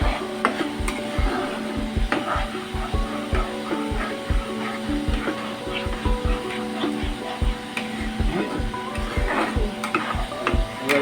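Ground melon-seed paste being stirred into butter paneer masala in a pan, with rhythmic scraping and tapping strokes over a soft background sizzle and hum.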